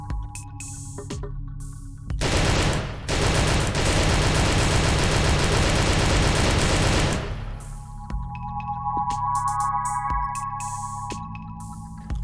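Rapid automatic gunfire with recoil in a first-person shooter game, a long loud burst of rapid shots followed by sparse single reports and mechanical clicks against a steady hum.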